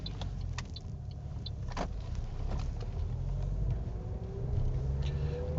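A manual transmission car pulling away from a stop during a driving test, with a steady low engine hum and road rumble from inside the cabin and faint clicks and a rising whine as it gets moving.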